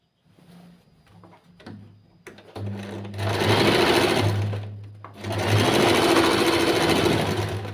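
Sewing machine stitching the lined neckline of a churidhar, starting with short start-stop bursts before two long, steady runs of fast, close, continuous whirring stitching.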